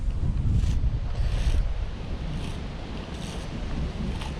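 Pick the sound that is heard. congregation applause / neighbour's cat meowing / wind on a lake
wind on a lake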